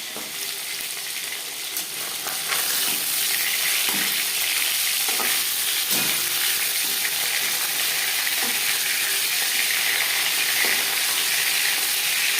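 Fish frying in a pan for a gathi kochu fish curry with little oil, a steady crackling sizzle with occasional stirring knocks, close and continuous, no talk.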